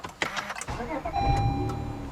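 A 2014 Honda Accord Coupe with the 3.5-liter J35 V6 and six-speed manual cranks and catches, settling into a steady, close idle hum after a brief starter whir.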